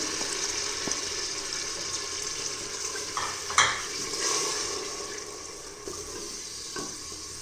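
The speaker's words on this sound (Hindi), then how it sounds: "घी गर्म हो गया है। अब हम इसमें चॉप किया हुआ ये लहसुन, अदरक, प्याज डालते हैं।" Chopped garlic, ginger and onion frying in hot ghee for mutton paya, giving a steady close sizzle with a few stirring scrapes and clinks, no voices.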